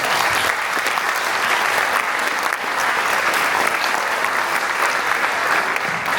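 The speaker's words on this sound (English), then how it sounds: "these recruits deserve a round of applause" Sustained audience applause for youth police academy recruits at a sheriff's office graduation ceremony, a dense steady clatter of many hands clapping at even loudness throughout, with faint crowd murmur beneath.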